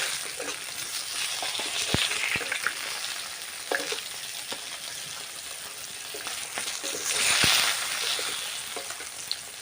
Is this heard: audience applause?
no